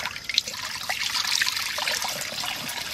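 Water pours and trickles steadily into a cooking pan set on a lit clay stove outdoors, a continuous splashing wash close by with no talk over it.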